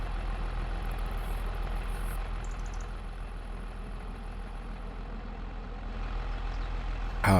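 Small tractor engine with a CVT pulling slowly uphill while liming, a steady low drone that holds throughout and swells slightly at the end, no voices.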